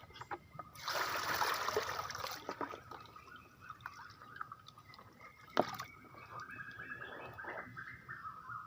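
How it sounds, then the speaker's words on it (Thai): Holland papaya seeds being washed by hand in water: close sloshing and splashing for about a second and a half, then softer trickles and drips with one sharp splash near the middle. "ล้างให้สะอาดเพื่อให้เปลือก ที่หุ้มเมล็ดออกให้หมดนะครับ"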